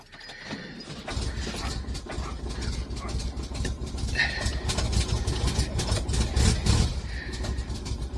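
A Volkswagen Fastback engine with carburetors and no choke idles steadily after a cold start in snow, a continuous low rumble that runs the whole stretch with some sharper noises on top.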